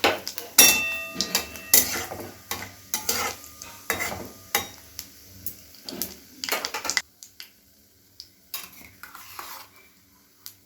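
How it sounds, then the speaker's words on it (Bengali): Nigella seeds and a dried red chili dropped into hot oil for a Bengali mashed taro paste, crackling and spattering at close range with scattered utensil clinks, the sizzle fading toward the end, no talk. "এখন আমি কালো জিরা ফোড়ন দিলাম, আর একটা শুকনো লঙ্কা দিয়ে দিলাম।"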